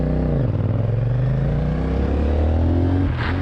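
A CFMoto 450NK motorcycle pulling away in second gear, engine note climbing steadily from a low rumble as it accelerates, close and loud with wind buffeting over it.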